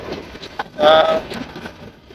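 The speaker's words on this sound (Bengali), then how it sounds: "মালবাহী ট্রেন" A train rumbles past with steady rolling noise and a brief horn-like tone rising in the middle, heard from nearby outdoors.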